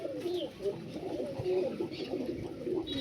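Several Malwai pigeons coo softly and continuously in a low, throaty murmur, with overlapping calls forming a steady, moderately close background; faint voices may sit underneath.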